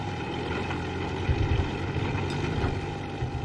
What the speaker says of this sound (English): Going up this mountain is making the engine work about 10 times harder than it's supposed to.